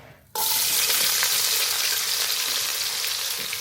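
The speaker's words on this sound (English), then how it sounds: "So I want to be dropping this star anise, let it infuse into the oil." Star anise dropped into hot oil sets off a loud, steady sizzle that starts abruptly after a short quiet moment and keeps a dense, even crackle with no talking.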